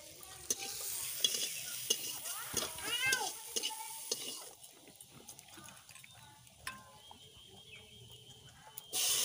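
Carrots fry in a pan while a utensil stirs and scrapes them, giving repeated clattering strokes over a crackling sizzle, with softer spells and a louder burst at the close.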